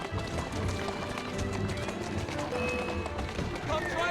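A horse gallops at speed in Assassin's Creed Syndicate, hooves drumming in a rapid continuous rhythm mixed with cart rattle and game ambience, with voices talking over it.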